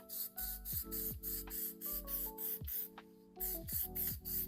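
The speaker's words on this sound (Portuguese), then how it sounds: "colinha em spray." Spray glue sprayed onto fabric for a recycled crocodile-print pouch: short, repeated hissing bursts close to the microphone, separated by brief pauses, while faint steady tones hum underneath.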